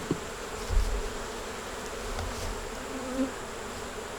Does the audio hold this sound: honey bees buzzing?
yes